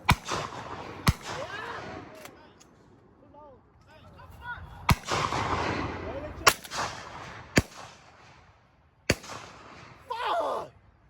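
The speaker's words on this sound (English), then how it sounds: "We just got to keep shooting." Shotgun blasts ring out during a dove hunt, six or seven sharp, loud reports spaced irregularly over several seconds, each with a short echoing tail, mixed with rustling, bird calls and people talking between shots.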